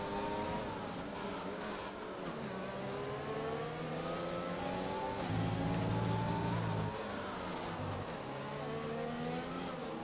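Formula race cars in a video game race at Spain scream through corners, layered engine whines rising and falling as they shift and brake, steady and loud throughout.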